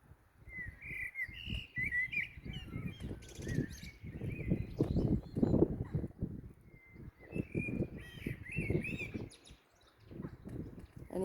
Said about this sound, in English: Blackbird singing his merry tune